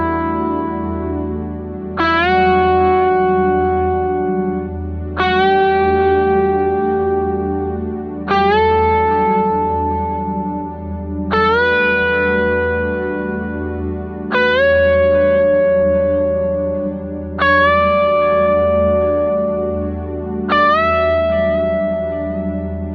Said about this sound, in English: we're going to bend upwards in pitch to each note in the E Dorian mode